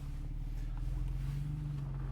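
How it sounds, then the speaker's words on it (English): Low, steady engine drone from a Porsche 911 991.2 Carrera S Cabriolet driving on the road, a smooth continuous hum with faint wind noise, moderately quiet and without talk. "To do this 911 any sort of real justice, what we need to do is to take it out for a drive, and let's get on the road."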